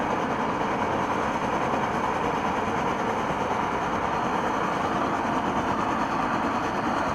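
A Primus pressure stove roars steadily under pump pressure after an ergo pump leak repair, a loud, continuous close-up hiss and rumble with no talk.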